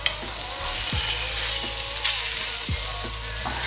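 A beef roast sears loudly in a hot pan, a steady close sizzle with a few sharp low knocks as the meat is turned over.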